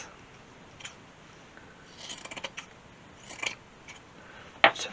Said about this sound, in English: This part of the sock, we're now going to cut